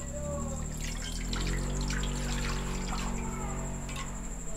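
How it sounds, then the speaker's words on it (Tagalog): Water pours steadily into a pan, a continuous splashing trickle over a low background hum. "Mag-start ulit tayo sa kawali. Lalagay lang tayo ng tubig."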